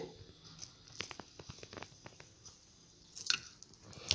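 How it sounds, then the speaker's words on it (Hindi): Lemon squeezed by hand for juice while preparing a homemade body polish, giving a run of soft, wet squishing and crunching pulses close by, with a brief louder squelch near the end. "लेमन भी हम ले करके इसको स्क्वीज कर ले रहे हैं"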